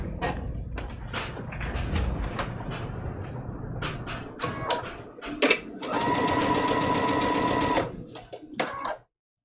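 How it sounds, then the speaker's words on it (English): A sewing machine whirs in short bursts with clicks and handling noises while stitching a small paper-pieced quilt block, then runs steadily for a couple of seconds before stopping, close by. "We're going to go ahead and go back to the sewing machine."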